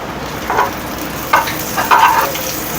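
Butter melting in a pan as the base for a burger sauce, a soft steady sizzle close by with a few brighter bursts of crackle, fairly loud and without any talk.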